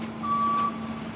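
A truck sounds its steady reversing beep while helping flip an overturned car back onto its tires on a Saint Paul street, a single sustained tone over low engine rumble.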